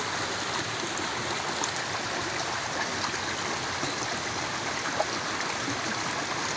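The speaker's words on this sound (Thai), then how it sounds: "ขึ้นไปทางแม่น้ำนี่ครับทุกคน" A forest river stream flows steadily, a constant, close, broadband rushing and trickling with no pauses, heard alone without voices.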